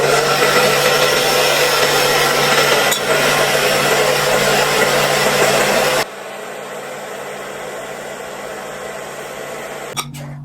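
A hair dryer blows a loud, steady roar for about six seconds, then drops to a softer setting, while drying over a glueless wig at close range; no speech.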